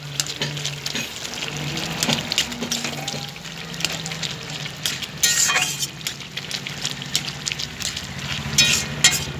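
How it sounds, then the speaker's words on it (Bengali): A vegetable curry of greens and potato bubbles and sizzles over a high gas flame, a continuous close frying hiss with scattered light clinks and small splashes, and no voices. "তরকারিটা রান্না হচ্ছে।"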